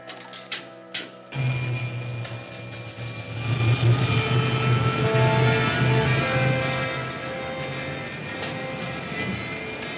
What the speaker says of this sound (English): Starting jet.